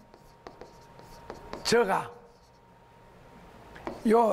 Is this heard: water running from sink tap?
no